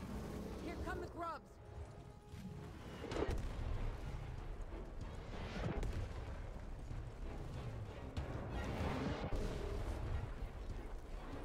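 Gunfire in the video game Gears Tactics, repeated booming shots scattered across the clip amid game effects.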